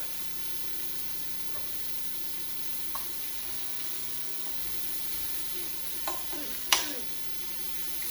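Onion and peaches fry in an oiled pan, a faint steady sizzle and hiss with a few soft utensil clinks near the end, quiet and without talk.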